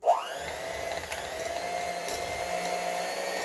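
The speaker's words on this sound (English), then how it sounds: "This is a 5-speed hand blender," A 5-speed hand blender with a turbo button runs steadily at close range, its motor whine holding an even pitch after a quick spin-up, with no talking over it.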